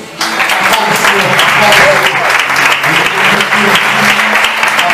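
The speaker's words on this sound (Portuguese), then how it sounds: "Aplauda o Senhor, querido." A church congregation at a Saturday night prayer service applauds loudly and steadily, dense clapping filling the room with voices mingled underneath.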